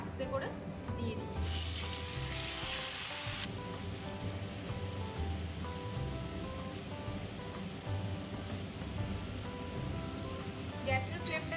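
Marinated chicken going into hot oil over a high gas flame, giving a loud, steady sizzle that turns harsher for a moment and then settles into a continuous crackle.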